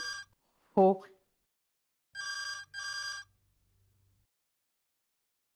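A telephone bell rings in two close electronic bursts in a quiet room, preceded by a brief spoken word and followed by silence.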